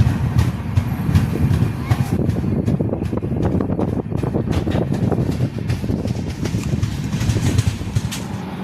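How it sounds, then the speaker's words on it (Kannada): Nanded–Bengaluru Express (16594) pulling out of Pangaon railway station, heard from inside a 3AC coach: a steady, dense low rumble of wheels and carriage with wind buffeting throughout. "ಇವಾಗ ಪಾನ್ಗಾಂವ್ ರೈಲ್ವೆ ಸ್ಟೇಷನಿಂದ ನಾವು ಹೊರಡ್ತಾ ಇದ್ದೀವಿ"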